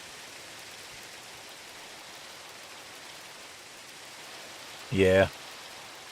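Steady soft rain in a video game, with no thunder, a constant broadband hiss that holds throughout while a voice briefly speaks near the end.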